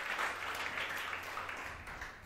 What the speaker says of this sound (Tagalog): Pwede ba marinig ko uli ang palakpak ng mga anak ng Diyos na para sa kaharian ng Diyos?